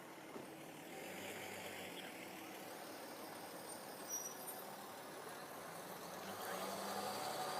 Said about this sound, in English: Traffic's starting to pick up, and as you can see, more and more cars coming my way